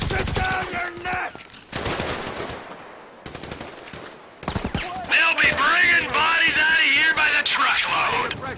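Heavy automatic gunfire from a firefight in the video game GTA V, loud rattling bursts with a short lull midway, under shouting voices.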